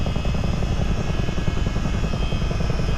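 A Miltech CH-47D Chinook helicopter in flight in MSFS 2020, a steady loud rotor and engine drone with rhythmic low blade chop running evenly throughout, with no talking.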